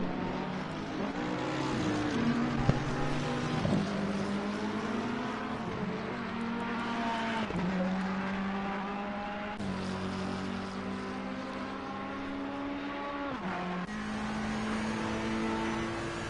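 GT3 race car running through the final corner of the Paul Ricard circuit, a continuous loud engine drone with pitch rising and falling through several gear changes over about sixteen seconds, no voices.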